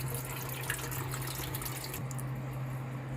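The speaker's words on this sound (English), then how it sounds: "So when it's draining, it's actually pulling the water through the propeller itself." Water drains from a Temu mini washing machine in a steady, even rush with a low hum underneath, close by and continuous with no talking.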